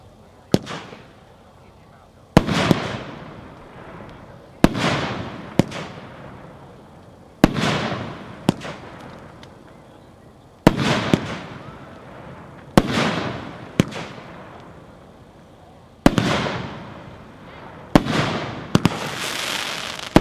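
A fireworks cake, Big Explosion by Epic, fires nine shots, each a sharp launch thump followed by a loud booming burst with crackling decay, spaced a couple of seconds apart and heard from a short distance.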